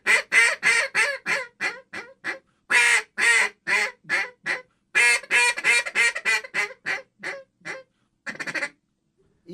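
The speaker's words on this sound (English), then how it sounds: "It's my hunting call." A duck call blown in quick bursts, loud rhythmic quacking runs with short pauses between series, close to the listener.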